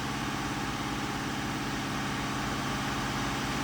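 A car engine holds steady at 2000 RPM during an oxygen-sensor fuel-trim check for a P0135 heater circuit fault, a constant close droning hum with a low rumble and no break or change over a few seconds.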